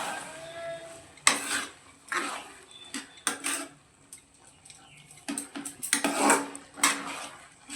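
Boiled peas and potatoes with spices are stirred and sautéed in a pan, metal spoon scraping and clanking against the pan in irregular bursts, close and fairly loud, with quieter gaps between strokes.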